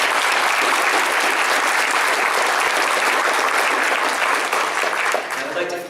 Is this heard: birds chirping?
no